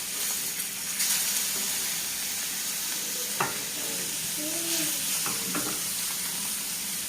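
Pieces of katla fish fry in hot oil, giving a steady sizzle with a few clinks and scrapes from a utensil and some bubbling near the middle.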